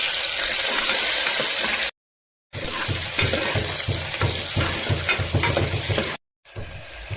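Mustard seeds, cumin and onion frying in oil for a pigeon pea sambar, a loud dense close sizzle with stirring, cut by two short silent gaps.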